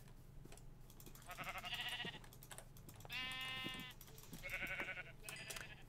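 Sheep in Minecraft bleating in three separate bursts, clear and fairly close, set against soft ambient game noise with faint clicking like keyboard typing.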